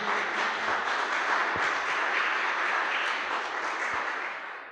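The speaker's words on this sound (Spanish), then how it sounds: "Dale un aplauso fuerte al Señor si crees que es así." A church congregation breaks into loud, sustained applause, a dense even wash of clapping that fills the space for several seconds and tapers slightly at the end, with no talking over it.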